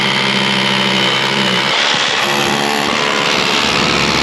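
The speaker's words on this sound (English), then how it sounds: "count how many holes we can drill before the battery becomes flat again" A Bosch 18V cordless hammer drill runs loud and continuous while drilling holes, a steady high whirring motor with a coarse rattling hammer action, no talk over it.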